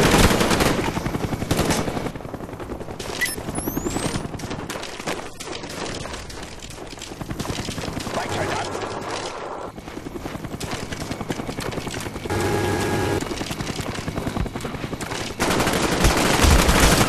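Rapid bursts of gunfire ring out over a constant helicopter rotor roar in Call of Duty: Black Ops, on the Jungle map, loud and dense, with a few sweeping whistles and explosions.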